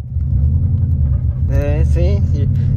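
Manual-transmission car with a steady loud engine rumble as a learner driver accelerates, heard close from inside the cabin, with a voice talking briefly over it midway.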